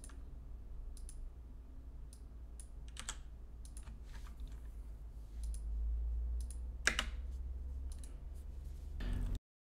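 Computer keyboard keys pressed in scattered bursts of clicky typing while keys are assigned to movement actions for a platformer game in the Godot engine, fairly quiet and close over a low steady hum, with no voices.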